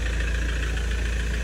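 Mahindra Scorpio SUV engine idling in a parking area, a steady low rumbling drone with a faint regular pulse, close and unbroken, no voices.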